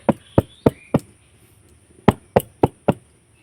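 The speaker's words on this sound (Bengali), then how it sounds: "আর একটুখানি থালাটা আমি ঝাঁকিয়ে নেব তাহলে বাতাস থাকলে বের হয়ে যাবে" Semolina batter in a plate being shaken and tapped, giving eight sharp knocks in two quick groups of four with a short pause between them, close and clear.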